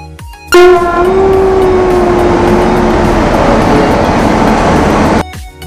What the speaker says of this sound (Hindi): लो जी वो आ गई ट्रेन हमारे पास।